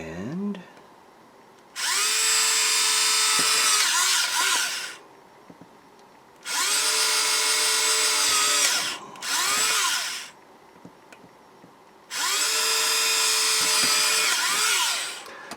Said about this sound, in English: I'm going to go ahead and drill these out.